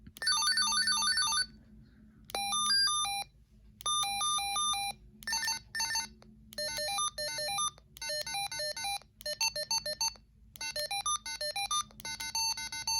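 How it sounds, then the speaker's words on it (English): A series of bright electronic walkie-talkie ringtone melodies, several short beeping tone sequences played one after another with brief pauses, clear and alone. "There's your ringtone."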